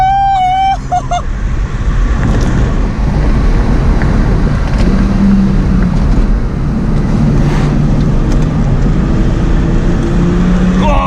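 Ford AU Falcon engine accelerating hard on a mountain road while towing, a loud, sustained broadband roar with heavy wind buffeting throughout and brief voice sounds near the start.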